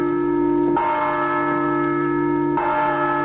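Church bells ring steadily and loudly throughout, with sustained metallic tones and fresh strikes about a second and two and a half seconds in, with no voices present.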